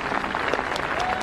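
Festive applause in a film scene as Sam receives a piano from an Iraqi commander: a brief, dense burst of crowd clapping, steady and moderately loud.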